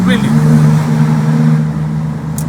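A Maserati MC20 engine drones low and loud while the car is driven, a steady throaty hum beneath a man's brief speech.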